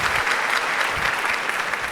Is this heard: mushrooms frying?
no